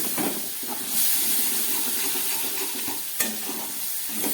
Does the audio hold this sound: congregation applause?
no